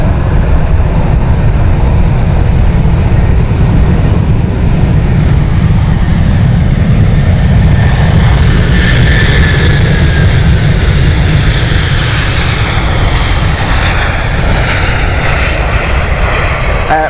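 A Delta jet takes off at Amsterdam Schiphol with a loud, sustained engine roar that holds steady throughout, a rising whine riding over the broadband rumble near its peak.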